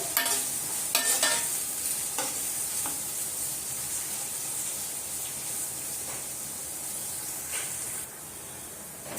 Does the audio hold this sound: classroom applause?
no